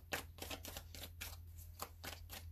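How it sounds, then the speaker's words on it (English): Tarot cards are shuffled at close range in a quiet indoor space, making soft, quick riffling and slapping bursts in an irregular rhythm with short pauses between them. "I know some people like to see the shuffling"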